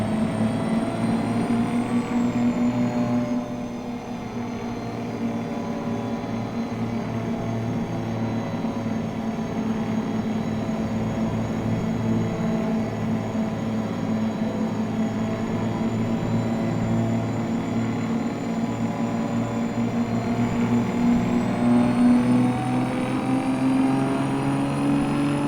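A Mack R two-stroke truck engine in American Truck Simulator drones and revs steadily for a long stretch, its pitch shifting slightly as it climbs, dips and rises again, loud and alone without talk.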